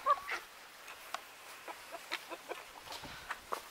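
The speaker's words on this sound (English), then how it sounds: "So that's a big old chicken." A big hen clucking softly in short, scattered bursts, several brief clucks spread across a quiet background, fairly close but low in level.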